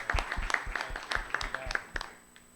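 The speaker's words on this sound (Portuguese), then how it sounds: "Palmas." Scattered hand claps from a small group, short and uneven, fading out after a couple of seconds.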